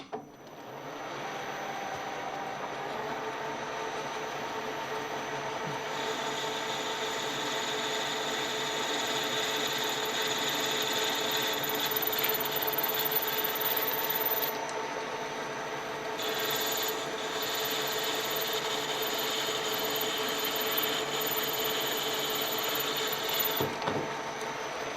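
A tool cuts metal spacer washers for Yamaha 250 or 360 Enduro fork tubes down to length, producing a steady, continuous grinding rasp that swells and dips for about 25 seconds, close and without talk.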